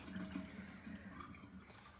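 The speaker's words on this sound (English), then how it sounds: "we're gonna rinse them with cold water, just to kind of rinse off any excess salt." Cold tap water runs steadily over brined pork chops in a kitchen sink, a soft continuous rushing and splashing at low level with no talking.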